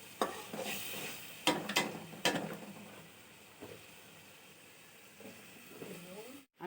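Spice masala hisses softly in a pan for a chicken curry, with a few sharp stirring scrapes early on, then a quieter, steady sizzle.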